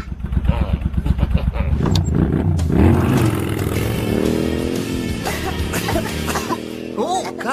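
Cartoon motorcycle passing by, a loud revving engine roar with a rhythmic pulsing start that swells and bends in pitch as it goes past, mixed with music and effects.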